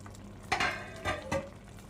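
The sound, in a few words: eggplant dish cooking in a pan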